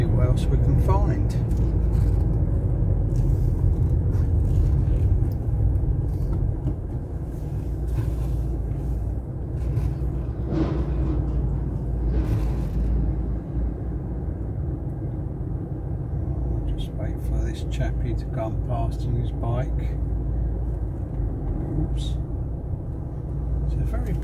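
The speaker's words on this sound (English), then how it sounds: "Busy high street, lots of cars." Steady traffic on a busy high street in Kiti, Cyprus, a village by Larnaca Airport: a continuous low engine rumble with cars passing close by, and people talking now and then.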